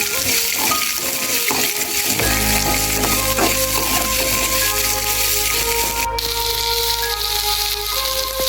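Crushed ginger and garlic frying in hot oil for an egg roast, a loud continuous sizzle and crackle up close, with clinking and stirring noises early on and no talking.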